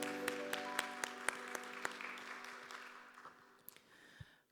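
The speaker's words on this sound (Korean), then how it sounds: "박수로 서로를 격려하겠습니다." A church youth-service congregation applauds together, a steady wash of clapping with sharp distinct claps standing out, gradually thinning and fading over several seconds.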